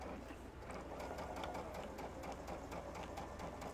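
A domestic sewing machine stitches fabric for a plush stuffed horse, its fast, steady needle chatter running loud and continuous throughout with a low motor hum underneath.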